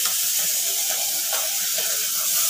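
Pressure cooker on a stove, a steady loud hiss of steam, with a faint sizzle beneath it, continuing unbroken for a few seconds.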